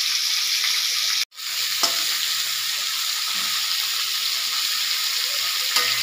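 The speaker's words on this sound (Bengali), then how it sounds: "এবার কপিগুলোকেও ছেড়ে দিলাম। ফুলকপিটা ভাজতে একটু সময় লাগবে" Cauliflower florets fry in hot oil in a pan with a constant loud sizzle up close, broken near the start by a short gap and then occasional soft scraping stirs.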